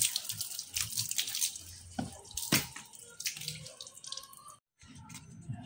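Water splashes and trickles over a vehicle headlight lens as it is wetted before sanding, with irregular close splashing bursts and a brief quiet gap near the end.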